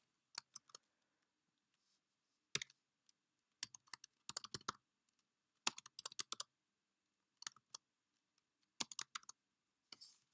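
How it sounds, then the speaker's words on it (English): Computer keyboard typing in quick bursts of clicks separated by pauses, close and fairly quiet, with irregular rhythm as text is entered. "And we're just typing out some information here."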